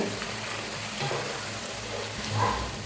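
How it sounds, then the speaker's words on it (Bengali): Spice paste for chicken lababdar is stirred and fried in a pan, with a continuous close sizzle of oil broken by scraping stirring strokes and occasional louder spatters. "এবার আমরা যে পেস্টটা তৈরি করেছিলাম সেটা দিয়ে দেবো নেড়ে চেড়ে আমরা পাঁচ ছ মিনিট ভেজে নেব"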